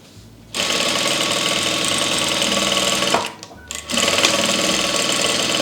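A sewing machine stitches satin and cotton fabric with a fast, steady mechanical chatter. It starts abruptly, pauses briefly partway through and then resumes, running loud and close.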